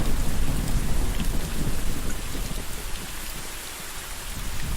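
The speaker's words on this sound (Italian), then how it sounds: "Leo ha paura del temporale." Heavy thunderstorm rain pours down steadily in a forest, with deep rumbling thunder rolling underneath throughout; dense, loud and continuous with no voices.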